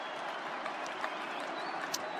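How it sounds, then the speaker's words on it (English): Essendon Bombers fans applaud player Francis during the final quarter of a 2018 AFL match against Sydney, a faint, distant, steady wash of stadium clapping. "Francis getting a nice round of applause"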